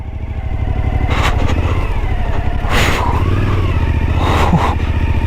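Motorcycle engine working hard through a deep sandy corner in the Moroccan desert, a loud, close, steady drone with rising revs and throttle surges, no talking.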